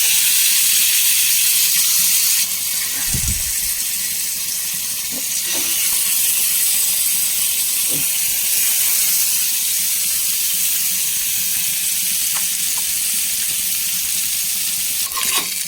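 Fish frying in a pan for a Kerala home lunch gives off a steady, dense sizzle throughout, broken by a few soft utensil knocks, with no talking.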